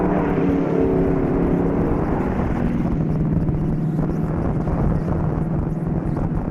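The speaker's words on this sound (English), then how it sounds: "Mike Schaefer quickly taking over that number 1 position as they head down the back straightaway" Stock cars in a Bomber Division feature at Knox County Raceway roar steadily down the back straightaway, a dense continuous engine drone with wind buffeting, loud and sustained throughout.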